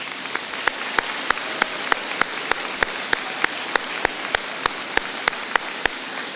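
Audience applause at a graduation ceremony: a steady wash of clapping from a crowd, with a crisp, evenly spaced clap repeating through it at a regular beat.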